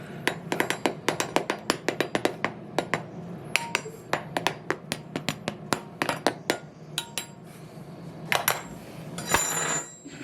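Crispy fried cuerito pork skin tapped repeatedly with a utensil, sharp hollow knocks in a quick uneven series, close and crisp, ending in a brief rustle.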